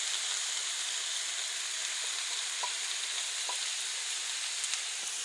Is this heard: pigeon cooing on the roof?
no